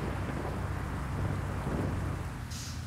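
Rain and thunder in the Bus Simulator Indonesia driving game: a faint, steady patter and rush of rainfall under a low, rolling thunder rumble.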